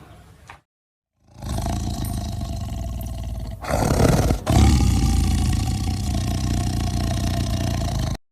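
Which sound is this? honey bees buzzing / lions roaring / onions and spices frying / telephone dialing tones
lions roaring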